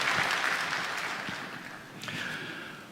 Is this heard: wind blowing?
no